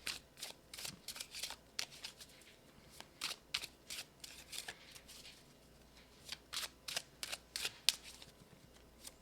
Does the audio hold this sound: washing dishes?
no